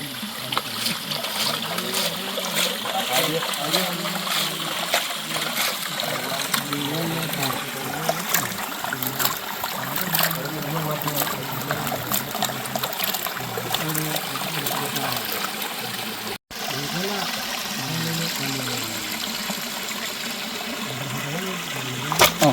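Fish being washed in clean water, continuous trickling and splashing with a brief break, a voice speaking intermittently beneath the running water.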